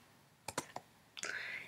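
A few sharp computer keyboard key clicks in quick succession while entering a command in Rhino 3D modeling software on a Mac, close and fairly quiet, followed by a brief swishing tail.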